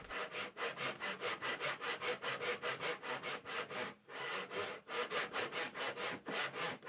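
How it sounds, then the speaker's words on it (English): A tenon saw cuts into wood in quick, regular back-and-forth strokes, close and clear, with a short pause partway through before the rhythmic rasping resumes. "Using my tenon saw at a slight angle into this knife mark, I start to make a cut."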